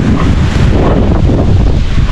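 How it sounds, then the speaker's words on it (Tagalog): Strong wind gusts roar steadily across the microphone on an afternoon before rain, a dense continuous rush with a broad low-end buffeting and no voices. "Tuwing hapon, ganyan. Hangin na malakas."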